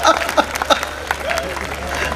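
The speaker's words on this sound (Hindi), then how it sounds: "और अब आपकी तालियां उठेंगी" Audience applause at a Hindi poetry mushaira in Dubai, a steady wash of clapping from a crowd that rises and falls over a couple of seconds.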